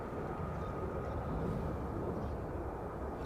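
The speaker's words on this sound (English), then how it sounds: "I can just hear those, I think they're the F-35s." F-35 fighter jets flying overhead at an air base, a broad steady roar that holds at an even level throughout, distant and without clear rise or fall, no talk.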